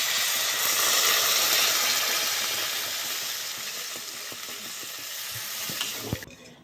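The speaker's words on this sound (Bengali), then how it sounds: "আমি এবার জল দিয়ে দেবো।" Loud hissing sizzle as water hits potatoes frying in fish gravy, a bright burst of steam that slowly settles into a softer bubbling simmer, with a few utensil knocks at the end.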